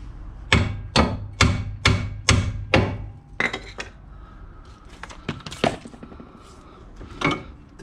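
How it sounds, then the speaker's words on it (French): A hammer strikes a suspension wishbone on a Fiat Scudo 2.0 HDI van in a repair setting, about six loud, evenly spaced metallic blows, followed by scattered clinks and knocks of tools. "Le marteau."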